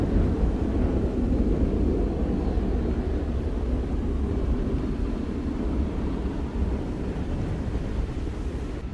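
Boeing 787 Dreamliner airliner taking off at Montego Bay, Jamaica: a steady, loud, broad jet roar with heavy low rumble that holds level throughout, mixed with wind buffeting on the microphone, no speech.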